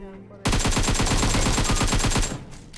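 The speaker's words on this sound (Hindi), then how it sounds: "फिलहाल बंदों के जो गन फाइट के साउंड हमें यहाँ से आ रहे थे।" Rapid automatic gunfire from a gunfight in a battle royale video game, a loud sustained burst of evenly spaced shots lasting about two seconds, then a few scattered distant pops.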